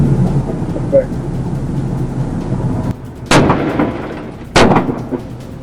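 Loud gunshots in a police dash cam recording during a standoff, two sharp booming reports a little over a second apart over rumbling vehicle and road noise.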